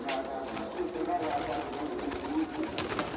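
Pigeons coo softly in a loft, low murmuring calls repeating under steady background noise.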